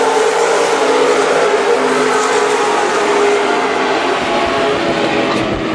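WISSOTA Super Stock race cars roar around Viking Speedway, a dense, loud, continuous engine drone from a pack of cars on the track, with no break in the noise.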